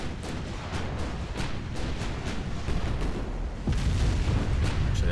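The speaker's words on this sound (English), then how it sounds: "here we go, another 13-inch volley," In Ultimate Admiral: Dreadnoughts, a volley of 13-inch naval guns sounds as a string of deep, heavy booms. The sharp reports come one after another over a rumbling battle din, and a larger blast swells near the end, with no one talking.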